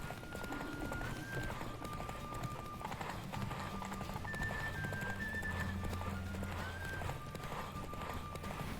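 Roach the horse gallops in The Witcher 3: Hearts of Stone, hooves clip-clopping in a steady fast rhythm throughout, mixed under game music and ambience with intermittent voices.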